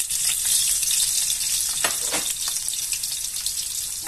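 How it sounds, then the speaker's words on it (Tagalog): Garlic and onion hit hot oil in a pan just used to fry eggplant, giving a steady, loud, close sizzle that crackles and hisses throughout with a few sharper pops. "with the same pan, magigisa naman po tayo ng bawang, sibuyas"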